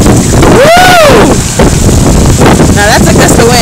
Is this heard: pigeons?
no